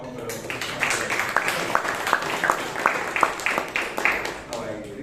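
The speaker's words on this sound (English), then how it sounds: "A big round of applause" Audience members at a Bangalore Toastmasters meeting clap for a speaker, with irregular, moderate claps that thin out over a few seconds while a voice talks through them.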